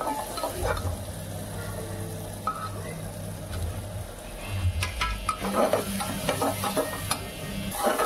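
Spices are stirred into a tomato and onion gravy frying in a pan for a masoor (lentil) curry, a steady soft sizzle under repeated spoon scrapes and stirring noises, close by.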